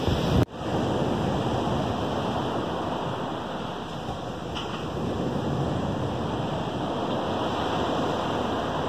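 Choppy sea off the coast at Bova Marina, Italy, with small waves washing in as a steady, continuous surf wash, mixed with wind buffeting the microphone and no voices.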